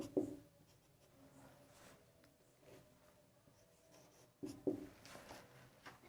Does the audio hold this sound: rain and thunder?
no